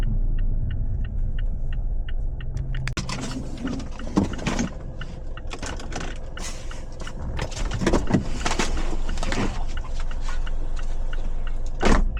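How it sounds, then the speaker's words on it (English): A car moves through traffic on a food delivery run, heard from inside as a continuous low road rumble, with louder passing swells and a few sharp knocks. "There's traffic no matter which way you go."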